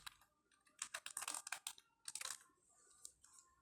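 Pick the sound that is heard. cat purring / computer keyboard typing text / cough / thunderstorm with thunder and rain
computer keyboard typing text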